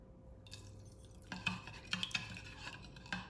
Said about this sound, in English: I'm just gonna use that spoon to kind of mix it up just a little bit